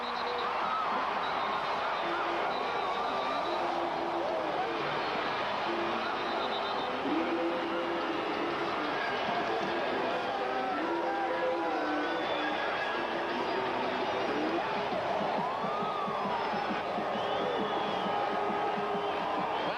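Pro-Calgary crowd at Taylor Field roaring after Doug Flutie's touchdown run in the 1995 Grey Cup, Baltimore Stallions versus Calgary Stampeders; a dense, steady wash of cheering and shouts fills the whole stretch, with scattered voices rising above it.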